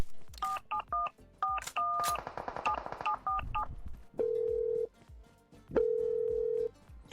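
Telephone keypad tones as a number is dialed, a quick run of short DTMF beeps followed by two long steady tones, heard clearly and alone without talk.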